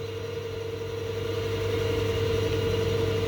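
Vintage workshop lathe running as its clutch is engaged, a steady close mechanical hum with a constant low drone that swells slightly as the drive takes up, no voices.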